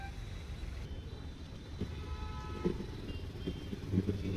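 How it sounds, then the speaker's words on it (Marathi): Heavy road traffic waiting at a signal: a low rumble of idling engines and passing vehicles, with faint horn toots and a few clunks, moderately distant and steady without talk. "आता सिग्नल वर आहे. खूप जास्त ट्रॉफिक आहे आज."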